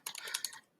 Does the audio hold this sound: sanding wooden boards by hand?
no